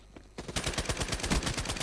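Sustained automatic fire in Call of Duty Black Ops 3, starting after a quiet moment and continuing as a fast, steady rattle of shots at moderate loudness.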